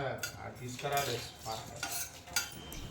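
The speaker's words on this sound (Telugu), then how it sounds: "ఇవన్నీ కూడా ఒక ప్యాన్లో వేసుకొని బాగా దూరగా వేయించుకోవాలి" Whole cloves, cinnamon and dried red chillies are dry roasted in a pan, with spices rattling and a utensil scraping and clinking against the metal in quick, irregular strokes, faint and close with no voices.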